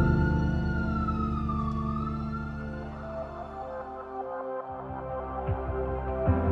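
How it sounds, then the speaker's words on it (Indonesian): A wailing emergency siren sweeps up and down, loud at first and then fading as the vehicle moves away, leaving traffic rumble on a city street in Riau Islands, Indonesia. "Hanya terdengar suara sirine yang sibuk berlalu lalang."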